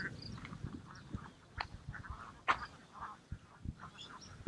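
A duck quacks repeatedly on a rural Thai farmstead, giving short nasal calls at an uneven pace, fairly close but soft, with a few thumps in between.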